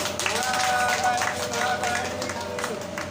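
An audience claps together during a Shrimad Bhagavat Katha religious discourse in Vrindavan, a dense crackle of applause over a voice that carries on throughout.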